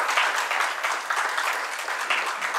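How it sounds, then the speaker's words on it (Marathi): A seated audience at a Marathi literary meet-the-author event applauds warmly as a guest is brought onto the stage, producing a steady, dense wash of clapping that swells and eases slightly without stopping. "आपण एक जोरदार टाळ्या वाजवून त्यांचं स्वागत करूया"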